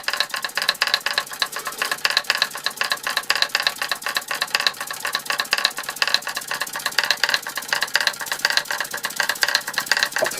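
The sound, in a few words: 1905 Fritz Neumier steam engine running Martinet steam hammers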